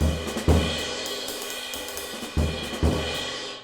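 A jazz drum kit plays an idea that breaks up the time without a steady ride cymbal. Deep drum hits land in separated accents over a ringing cymbal wash, close and alone.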